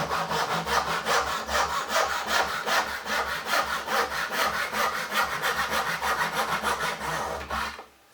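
A hand saw cutting a shoulder into walnut while shaping a wooden mash paddle, steady back-and-forth strokes rasping evenly and close throughout, ending abruptly as the cut finishes, with no talking.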